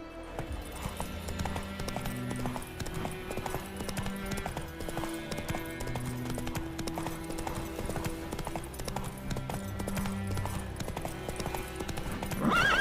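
A horse gallops in The Witcher 3, its hooves clip-clopping in a quick, steady rhythm close by for the whole stretch, with a whinny heard along the way.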